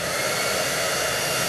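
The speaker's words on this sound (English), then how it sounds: "using our handy dandy embossing folder or embossing gun, I'm going to emboss this." An embossing heat gun blows a steady, close, loud whooshing hiss that holds constant with no pauses.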